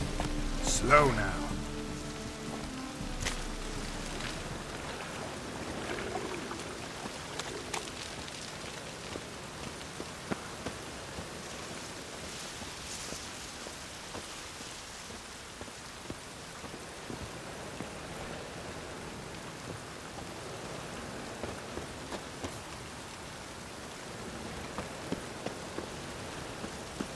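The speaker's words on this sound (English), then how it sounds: "Rain again." Continuous light rain in The Witcher 3: Wild Hunt patters in a soft hiss with scattered drop ticks, steady throughout, while voices speak briefly at the start.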